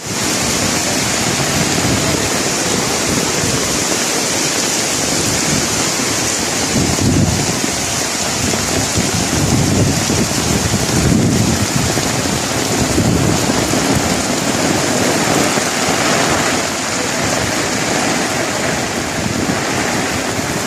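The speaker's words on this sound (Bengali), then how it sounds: "মুষলধারা বৃষ্টি" Heavy downpour at Thakur Nagar's flooded grounds, a dense, loud, unbroken hiss of rain pouring steadily throughout with deeper rumbling swells.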